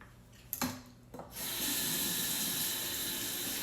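A kitchen sink faucet is turned on for rinsing ribs: a couple of brief knocks and splashes, then a steady, close rush of running water that continues to the end.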